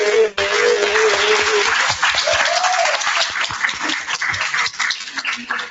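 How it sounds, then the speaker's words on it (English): Sustained audience applause fills a lecture hall at a community talk on African American medicine in Dallas, a dense, steady wash of clapping from many hands that holds strong for several seconds before thinning slightly toward the end. "can we get a round of applause for him?"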